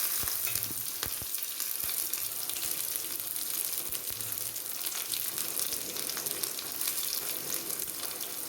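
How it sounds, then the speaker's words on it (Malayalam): Chopped onions frying in a pan with a continuous, crackling close-up sizzle and occasional sharp spits and clicks, steady throughout with no talking. "ഇനി അരിഞ്ഞു വെച്ചിരിക്കുന്ന ഉള്ളി ചേർക്കാം"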